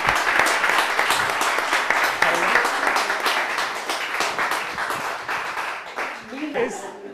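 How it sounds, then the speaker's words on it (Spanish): A lecture audience breaks into loud, dense applause that carries steadily for several seconds before thinning out, with a few voices emerging near the end as the clapping fades. "¿Aplauso?"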